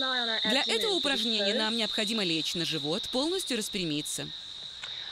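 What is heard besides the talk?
cicadas chirping outdoors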